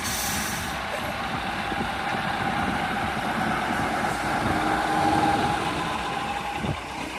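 A 1956 Scammell Constructor truck at a steam rally, its engine running with a steady low rumble that stays fairly constant and nearby, with a brief hiss near the start and faint outdoor background noise.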